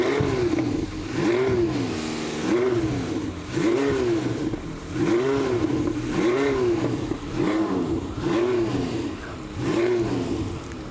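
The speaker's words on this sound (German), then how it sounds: "Könntest du nochmal starten? Den 8-Zylinder, haben wir den Sound." A Porsche eight-cylinder engine revs again and again in repeated rising and falling bursts, close and loud, with a deep barking exhaust note and nobody speaking.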